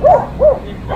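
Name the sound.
dog barking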